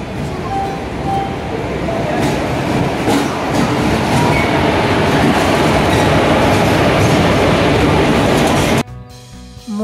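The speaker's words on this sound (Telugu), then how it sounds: "ట్రైన్ అయితే వచ్చింది గంట లేటుగా." A late-running passenger train in India rolls in, with loud, continuous rumbling and rail clatter close by that cuts off abruptly near the end.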